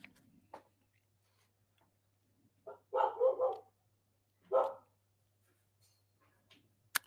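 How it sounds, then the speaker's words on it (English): A dog barks at a delivery person from indoors near an open office window, giving a short burst of several barks followed by one more single bark a moment later, alone against a quiet room hum. "she's over here barking at the delivery guy."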